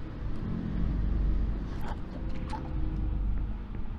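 A car driving in the horror game The Consuming Shadow gives a steady low engine rumble that holds for a few seconds, with faint scattered clicks on top.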